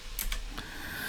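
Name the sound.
typing on a computer keyboard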